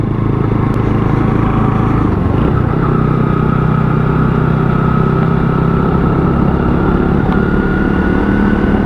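WK Scrambler 125cc motorcycle on a test ride, its engine droning loud and steady throughout with small shifts in pitch as it rides along, no talk.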